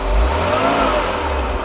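A Mercedes W461 300GE engine, just repaired after a faulty fuel distributor, revs steadily under throttle with a continuous close mid-pitched drone and no voices over it.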